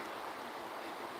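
The Ganga flowing past Saptarishi ghat at Haridwar makes a steady broadband rush of moving water, even and continuous over a brief moment, with no voices.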